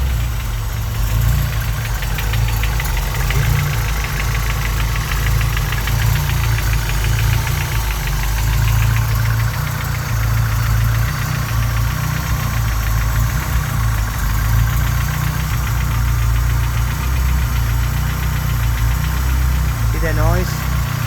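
Honda G23 engine idling with piston slap, a steady low mechanical rumble overlaid with a rapid, continuous knocking clatter that holds evenly throughout, recorded close to the engine.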